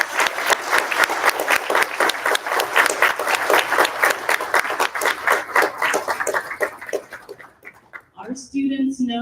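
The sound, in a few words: applause for students at a candidate forum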